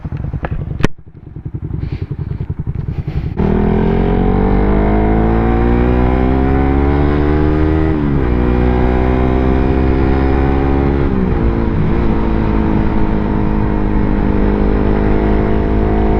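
Motorcycle engine running steadily while riding on a road in Tandag City, starting with a few brief knocks, then a loud continuous drone with the pitch rising and falling as the bike changes speed.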